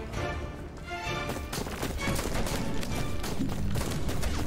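Rapid, dense gunfire fills a dungeon shooter game played as a robot, a fast stream of close shots that keeps a loud, even level for the whole stretch, with no talking over it.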